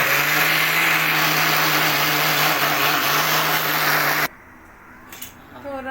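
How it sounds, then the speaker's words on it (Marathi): A mixer grinder grinding coconut runs as a loud, steady, high whirring drone for about four seconds, then cuts off abruptly, leaving only faint household noises. "आता खोबरा वाटून घे"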